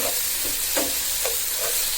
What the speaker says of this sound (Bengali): আমার পেঁয়াজ, রসুন, কাঁচামরিচ একদম ভাজা হয়ে আসছে